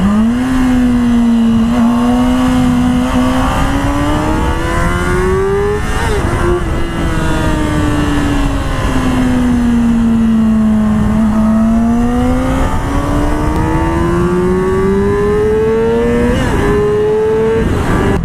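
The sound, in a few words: Yamaha R6 motorcycle engine revving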